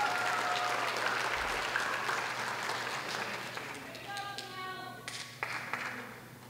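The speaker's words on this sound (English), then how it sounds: "Give her a round of applause." Audience applause at an eighth-grade school promotion ceremony, a steady wash of many hands clapping that thins out toward the end, with voices murmuring underneath.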